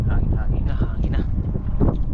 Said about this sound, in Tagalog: Hangin na.